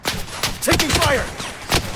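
Gunfire in the Blood Strike shooter game, sharp close bursts of shots rattling in quick clusters with thuds between, under a brief voice.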